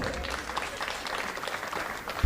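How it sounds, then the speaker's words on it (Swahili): Parents clapping together at a school parents meeting, a steady dense patter of applause that carries evenly through the room and stays moderately loud from start to finish, with no speech over it. "Hao nafaa hata niseme wapigiwe makofi."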